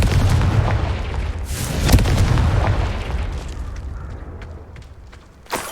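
Confringo blasting spell explosions in Hogwarts Legacy: a sharp booming blast with a rumbling tail, then another burst about a second later, fading and followed by a small crack near the end.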